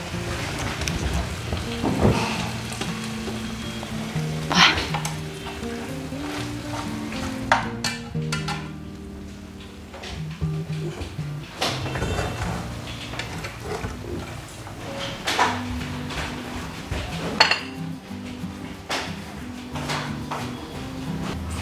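Squid fries in a pan with a steady crackling sizzle, broken by stirring scrapes and clatters as it is tipped onto a plate, close and moderately loud.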